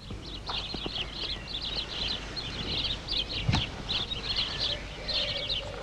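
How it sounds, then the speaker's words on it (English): Birds sing and chirp continuously in a quiet outdoor setting, bright repeated phrases from several birds at moderate distance, with a soft thump and faint rustling partway through. "Bloody birds."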